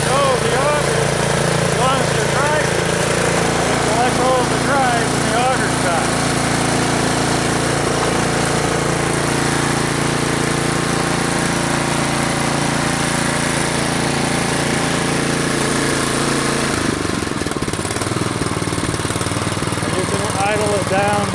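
A Troy-Bilt Storm 2840 snow blower engine runs steadily at a low idle, a continuous close mechanical drone with a slight change in tone near the end, while someone talks over it.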